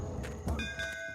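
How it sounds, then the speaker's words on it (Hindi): A bell dings a few times with bright ringing tones that linger over a dull background, heard as visitors wait outside an entrance. "घंटी बजी।"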